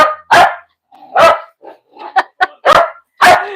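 A dog barks about five times in loud, close, separate barks, with a few softer yips and whines between them. The barks come in an irregular rhythm indoors and no one speaks.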